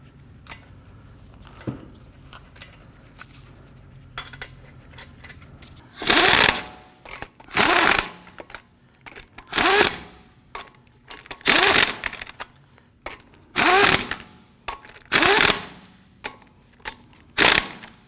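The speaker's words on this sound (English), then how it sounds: "I'm going to go ahead and get all of our lug nuts started." Lug nuts are spun onto the wheel studs of a 2015-2020 Ford F-150 during a front wheel bearing and hub replacement, heard as six or so loud, evenly spaced bursts of a power tool's whirring buzz, close up, with quiet gaps between.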